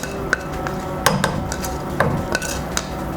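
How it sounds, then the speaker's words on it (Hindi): Boiled chana dal fries in oil and masala in a pan for dhaba-style dal, with repeated spoon scrapes and light clinks against the metal over a soft, close background sizzle. "ये मैंने दाल को ऐड किया है। अब मैं इसे भून रही हूँ।"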